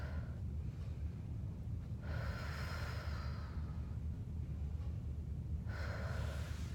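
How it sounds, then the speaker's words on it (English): Deep, slow breaths taken during a hip stretch, two long airy exhalations drawn out over a steady low background hum, close and fairly quiet. "I can't stress how important it is for you to breathe in this stretch."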